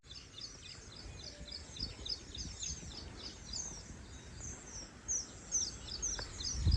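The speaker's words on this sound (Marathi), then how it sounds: "अख्खी का चिमण्या इथं चिव चिव आवाज येते" Sparrows chirping in a village setting after rain as the sun comes out, a faint scattered flock of high twitters repeating over soft outdoor ambience, no talk.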